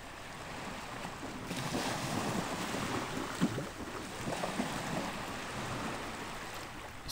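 Ocean waves wash up on a beach in a visual novel game, making a steady, broad rushing surge with light wind. No voices are heard.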